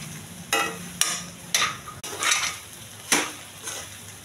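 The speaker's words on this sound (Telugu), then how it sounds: "బాగా కలపాలండి మసాలా అంతా పట్టేంత వరకు" A spoon stirs brown rice with masala and potatoes in a pan, giving several separate scraping and clinking strokes at uneven intervals, close by and moderately quiet, with no talk.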